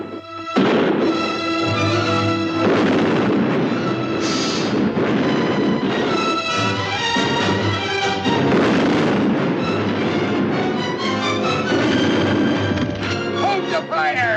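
Gunfire in a 1954 pirate film plays as a dense, loud stretch of repeated booming shots and crashes under shouting voices and a music score, continuing without a break.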